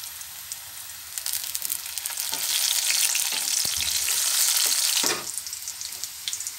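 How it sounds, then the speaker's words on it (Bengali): Sliced onion and a bay leaf frying in hot oil for a potato curry: a steady close sizzle that swells loudest in the middle, with light stirring scrapes and no talking. "পেঁয়াজটাকে আমি এবার ভেজে নিব।"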